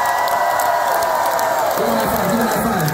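A concert crowd at a live hip-hop show in Philadelphia cheers, whoops and screams continuously, loud and dense throughout, with shouting voices mixed into the roar.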